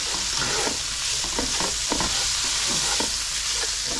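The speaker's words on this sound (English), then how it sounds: "Give that a quick stir. And then stir the meat mixture." Pasta and a meat mixture are stirred in a hot pan, with steady close sizzling and frying broken by repeated scraping and clacking utensil strokes throughout, with no voices.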